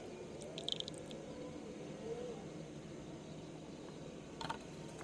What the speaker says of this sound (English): Now I'm going to pour my first 5 in.